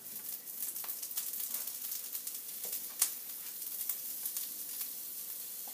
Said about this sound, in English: you're going to want to put the Brussels sprouts in a single layer on the pan